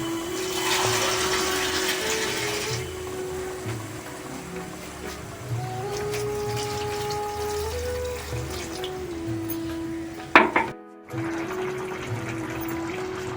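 Water is poured into a pot of prawn pulao, a steady splashing rush over a low background hum that continues for several seconds, with a brief clatter near the end.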